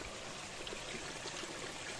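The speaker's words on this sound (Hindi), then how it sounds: "अभी हमें पानी भरा रहा है" Water runs steadily into a cooking pot that already holds rice, at an outdoor local-style cookout in Arunachal Pradesh, giving a soft, continuous faint rushing with no talk over it.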